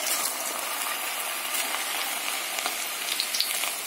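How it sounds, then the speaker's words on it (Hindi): Okra (bhindi) deep frying in hot oil over medium heat, added a few pieces at a time, giving a steady, fairly faint crackling sizzle with small pops throughout and no talking. "थोड़े थोड़े करके हम इसको डीप फ्राई कर लेंगे"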